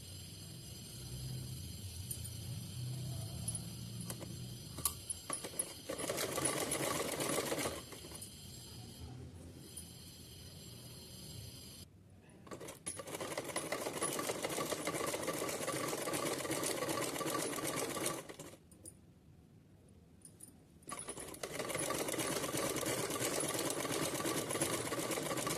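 A domestic sewing machine stitches two pieces of fabric for a small Krishna idol's outfit, running in long steady bursts that stop briefly between seams, faint and without talk.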